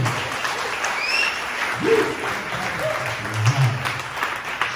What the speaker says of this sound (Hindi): जोर से ताली हो।